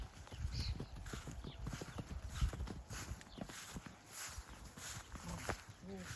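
Steady clip-clop of hooves walking on hard ground, close and rhythmic, with a voice talking and a brief whinny in the background.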